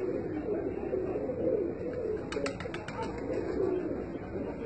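Pigeon cooing on a Gujranwala housing-scheme rooftop, soft low coos over a steady hum of outdoor ambience, with a brief cluster of sharp high chirps midway, near and moderate in level.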